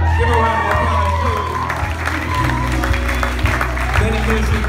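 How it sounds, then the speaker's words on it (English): A crowd at an athletes' ministry introduction event claps, cheers and whoops as a staff member's wife walks out, with a loud, busy mix of shouting and applause under an announcer's voice. "Give her a round of applause."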